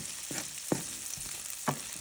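Onion and ginger sizzle and fry in a hot pan for buttered clams, a constant crackle broken by several soft stirring scrapes at an uneven pace, close and fairly quiet.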